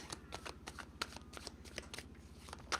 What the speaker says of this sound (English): let's pull some cards for them